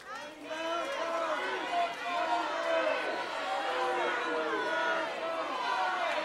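A game-show studio audience shouts over one another in a loud, continuous babble of overlapping voices calling out to a contestant.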